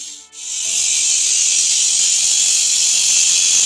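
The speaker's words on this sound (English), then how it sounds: "Time for the old man to start cutting the concrete with the angle grinder." An angle grinder cutting concrete during a house renovation spins up quickly and then holds a loud, steady, high-pitched whine with harsh grinding hiss, close and continuous.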